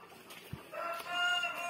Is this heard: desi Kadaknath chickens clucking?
yes